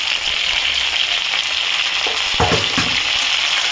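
Ginger-garlic paste, tomato and green chili being stir-fried for a mutton curry, a loud steady frying hiss with a few clattering spatula strokes near the middle.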